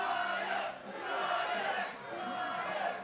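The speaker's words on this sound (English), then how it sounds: "Crowd asking, who are you?" A wrestling crowd shouting at Mark Connors and Omen as they enter the ring, a dense, continuous roar of many voices swelling and dipping in waves, loud and close around the listener.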